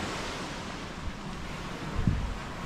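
Sea waves wash against the beach in a steady soft roar with wind buffeting the microphone, a low surge swelling briefly near the end, no voices.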